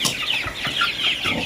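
A hen strutting in a backyard poultry flock, giving a quick run of soft, close clucks in short bursts, alone with no voices.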